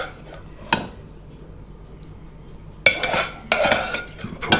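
Lamb mince for moussaka is stirred in a hot pan, bursts of scraping and clattering utensil strokes against the metal separated by quieter pauses, close and moderately loud, with a faint sizzle and no talking.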